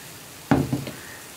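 Sugar being stirred into a rava and banana snack mixture in a pan, a short scraping stir with a brief sizzle, heard close and alone after a quiet start.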